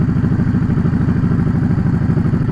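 A cruiser motorcycle engine idling slightly high, a loud, close, steady rhythmic low putter with a clattering pulse that stays even throughout.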